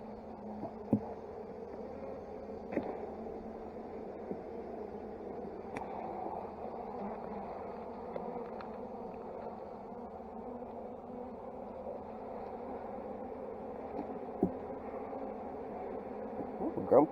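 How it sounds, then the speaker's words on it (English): Honey bee swarm that has moved into a hive, a continuous low buzzing hum close by with a few faint clicks and knocks. "Looks like a swarm moved in."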